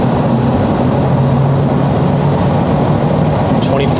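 A 7.3 Powerstroke diesel truck engine held at three-quarter throttle, a loud, steady turbo-diesel drone with a constant low rumble and high whistle, close and continuous with no break.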